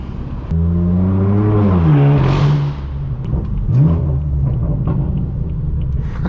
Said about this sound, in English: That downshift sounds so nice